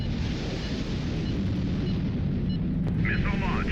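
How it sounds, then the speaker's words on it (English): A missile launch in a naval combat video game roars as a dense, continuous rumble for the whole stretch. A faint brief chirp rises near the end. "Missile launched."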